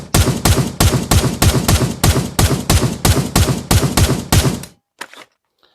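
A semi-auto Marksman rifle fitted with a holo sight fires in Pavlov Shack VR, about fifteen loud, evenly spaced shots in a steady rapid rhythm, then a brief mechanical clack after a short pause, with no voices.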